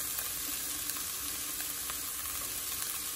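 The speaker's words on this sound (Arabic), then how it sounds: "خلي البصل يتحمر الاول شويه كده، تحميره بسيطه" Onion and garlic fry in a pan for a calamari tagine, producing a continuous dense sizzle with faint stirring ticks, close and even throughout.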